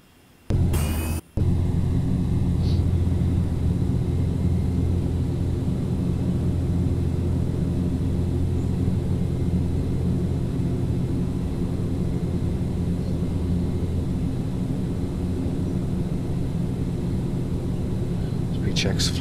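A Carenado Fokker 50 turboprop in a P3Dv4 flight simulator climbs after takeoff, its engine a steady, loud low drone with a constant hum under it, and a voice calls out briefly near the start.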